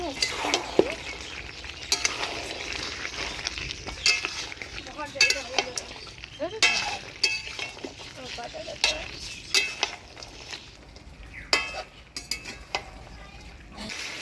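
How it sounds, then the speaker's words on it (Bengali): Fried new potatoes being stirred into a village-style duck curry in a pan, with a steady sizzle under repeated scraping and clinking of a spoon against the pot, close and moderately loud. "এবার ভাজে রাখা আলুগুলা দিয়ে দিচ্ছি।"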